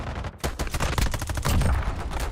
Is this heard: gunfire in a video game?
yes